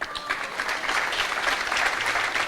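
Sustained applause from a large audience at a temple anniversary festival, dense steady clapping throughout with a faint voice underneath.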